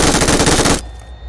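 A loud, rapid burst of automatic gunfire in PUBG Mobile rattles for under a second, then cuts off abruptly into a quiet electronic hum.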